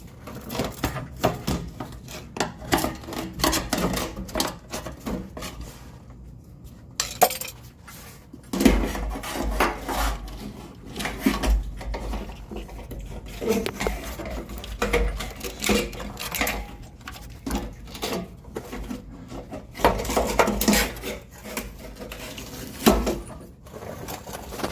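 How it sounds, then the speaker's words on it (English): Metal scraping, clunks and knocks as a pry bar works the fuel pump assembly up out of the dropped gas tank on a 2002 Ford F150 5.4 2WD, close and irregular, with no talk. "Now we take pry bar, pry this fuel pump up."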